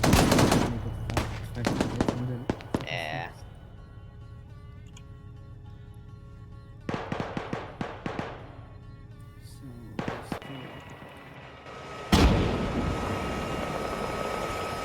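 Arma 3 combat brings bursts of rapid machine-gun fire and single shots in several clusters, over a steady helicopter drone, ending in a loud burst of noise.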